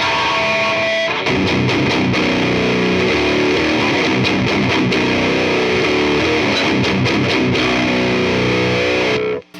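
Heavily distorted electric guitar through a Bugera 1990 amp cranked near 80 percent, loud dense chords and rapid chugging riffs playing continuously for about eight seconds before stopping abruptly.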